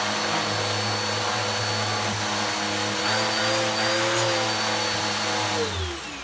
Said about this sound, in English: It is a bit more powerful, but it is only 700 watts, so it's not going to be a powerhouse